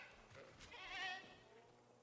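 A goat in the Jurassic World Evolution 3 dinosaur park game gives one short, wavering bleat near the middle, moderately loud against a quiet background with no talking.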